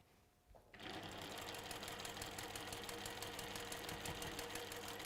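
A sewing machine starts up after a quiet moment and runs continuously, stitching a quarter-inch quilt seam that joins a half-square triangle unit to a rectangle, with a fast, even mechanical chatter held close and steady.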